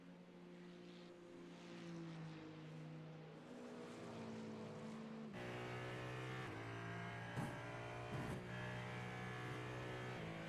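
A Ferrari race car in an IMSA sim race at Road America drones with a steady high-revving engine tone that shifts pitch through gear changes, with other cars passing nearby.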